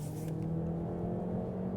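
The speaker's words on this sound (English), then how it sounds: "Oh my goodness, that engine's loud." VW Tayron PHEV engine in sport mode, a steady low droning engine note with a mild rising rev, heard from inside the cabin without talk.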